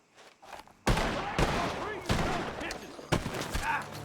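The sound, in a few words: gunshots from a barn in video game Red Dead Redemption 2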